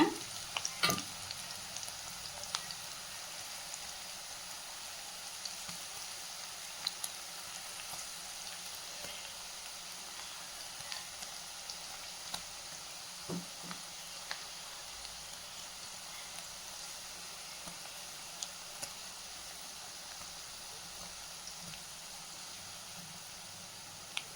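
Loose clumps of cabbage pakoda batter deep-frying in hot oil, a soft continuous hiss and bubble heard close, broken now and then by sharp little pops and crackles, no voices.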